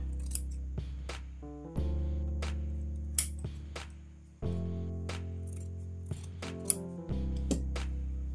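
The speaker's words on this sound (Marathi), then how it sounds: "हे आतलं जे जास्तीचं कापड आहे ते आपण व्यवस्थित कापून घेऊया" Scissors snip away extra cloth while a baby rabbit cap is cut out. Sharp, scattered clicks and snips sound close against a steady low hum, with irregular gaps between the cuts.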